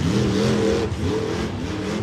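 A monster truck driven on three tires after a popped tire at a muddy night show in Miami, Oklahoma, its engine roaring loud and close as it revs, dips briefly, then surges again.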